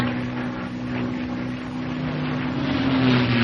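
A North American P-51 Mustang in flight gives a steady droning engine and propeller hum under wind noise, holding even and fairly loud for a few seconds with no talk.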